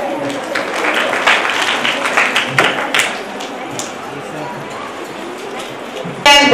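A crowd at a school academy's annual day function claps in a burst that is loudest early on and then thins to a lighter patter, with some voices underneath.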